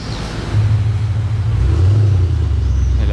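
A David Brown GT car drives past on the streets of Monaco, a low engine rumble that swells and holds close by as it goes.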